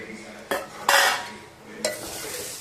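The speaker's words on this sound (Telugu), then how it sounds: "కలిపేసుకొని కొంచెం హీట్ అయ్యేదాకా మూత పెట్టేసుకోవాలి" A spoon stirring poha (flattened rice upma) in a pan on the stove, with a few distinct scrapes and clinks against the metal over a faint background hiss.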